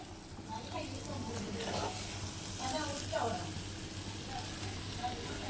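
Egg podimas stirred in a pan over a high flame gives a steady sizzle with soft scraping strokes from the spoon. A few faint bursts sound near the middle, and there is no clear talk.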